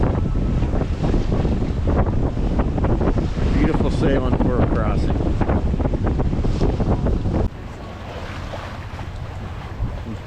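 A sailboat crossing Lake Michigan in 15 to 16 knots of apparent wind, making over 6 knots. Steady, loud wind roar and rushing water buffet the boat throughout, easing slightly to a lower, calmer rush near the end.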